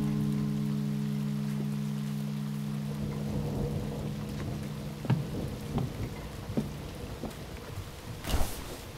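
Heavy rain pours steadily outdoors with a dense, constant hiss, a low rumble fading early on, and scattered louder drips and splashes, with a sharp burst near the end.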